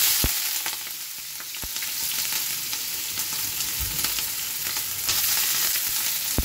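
Cut potatoes frying in oil with black cumin in a pan, a steady loud sizzle with occasional sharp pops and spatters, close and continuous, with no voices.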